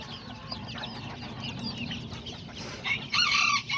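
Backyard flock of hens, growing chicks and young roosters clucking and chattering continuously at close range, with a louder crow rising near the end over outdoor background noise.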